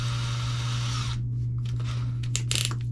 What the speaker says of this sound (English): This is a standard grip reamer